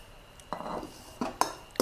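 Glass noodle larb salad with pork being tossed in a bowl: a few short scraping clinks of utensils against the dish, moderately close, with quiet gaps between them and no talking.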